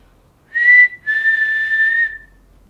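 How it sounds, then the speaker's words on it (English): Two clear whistled notes from a person, a short one followed by a longer sustained tone, close and alone against a quiet background inside the Goldfield Hotel. "If I whistle, can you whistle back?"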